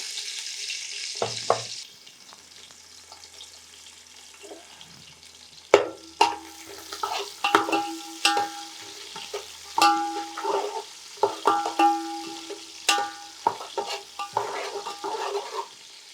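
Onion pieces sizzle and are stirred in a pot for vegetable biryani, with scattered clinks of a spoon against the pan and a short hiss at the start; no one speaks.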